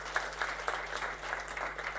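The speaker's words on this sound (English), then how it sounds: "give a round of applause for our speaker" Conference audience in a hall clapping for a speaker at the end of a talk, a steady, moderately distant patter of many hands with no voices over it.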